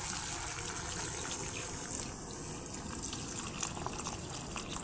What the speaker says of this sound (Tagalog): So lalagyan na natin siya ng tubig.